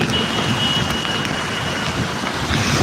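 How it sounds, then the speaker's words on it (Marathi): Heavy rain pours down in a dense, unbroken roar, loud and close, with a faint steady tone running through it and no voices. "भयानक पाऊस आहे पहा पुढे"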